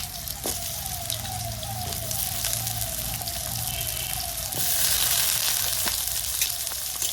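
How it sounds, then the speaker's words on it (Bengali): Potatoes frying in oil in a pan, a steady close sizzle with bubbling and occasional stirring clicks, moderately quiet and unbroken by talk. "আলুটা 2 মিনিট ভেজে নেব আগে।"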